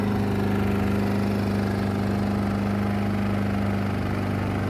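Clearance inverter generator running at a steady idle, with a continuous, close, even engine drone and a low mechanical hum throughout, and no talk.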